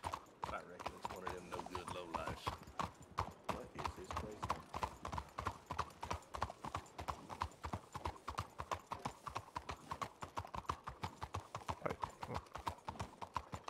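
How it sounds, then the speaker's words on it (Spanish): Horse hooves clip-clop at a steady, even walking rhythm on a ranch in a roleplay setting, close and clear for the whole stretch. A faint whinny is heard near the start. "Voy a atar al caballo aquí cerquita."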